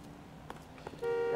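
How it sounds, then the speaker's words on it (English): Car horns honk in L.A. Noire's city streets at night, a sustained steady horn tone entering in the last half-second over game background noise and brief thuds. "Why are they honking at me?"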